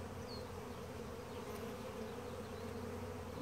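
A museum beehive full of brood and larvae buzzes with a dense, steady drone of many bees, close and continuous with no voices.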